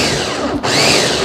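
A kitchen blender purees bananas for a banana cake batter, a loud, steady motor whir with a brief dip in the middle, close up and with no voices.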